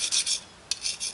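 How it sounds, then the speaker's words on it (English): A sanding stone files the sharp edges off a 1911 pistol slide, making a close, dry rasp in quick back-and-forth strokes with a brief pause partway through. "file it down just a little bit"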